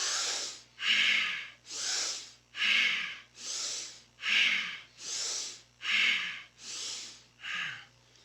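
Powerful Kundalini yoga breathing, close and rhythmic: about nine forceful breath cycles of full inhales and exhales through the nose, each a loud airy rush in a steady, evenly spaced pattern with no talk.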